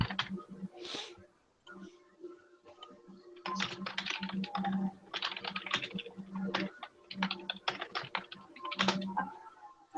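Fingers type on a computer keyboard in quick bursts of keystrokes separated by short pauses, fairly quiet and close, with a faint voice in the background.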